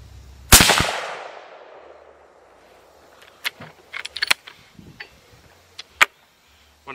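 One loud, sharp crack from a 6.8 Western rifle at a range with 100-yard targets, its echo fading over about a second. Faint clicks and small handling noises follow.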